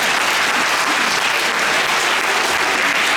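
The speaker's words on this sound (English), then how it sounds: "Let's give a round of applause to all the performers." Audience at a school Chinese New Year assembly applauds the performers, a dense, steady burst of loud clapping from many hands filling the whole stretch without letup.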